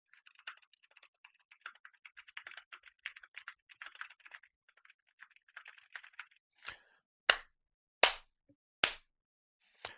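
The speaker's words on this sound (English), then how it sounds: "I'm going to type on a keyboard in the background" Soft, rapid clicking of keys on a computer keyboard for several seconds, followed by four loud, evenly spaced hand claps.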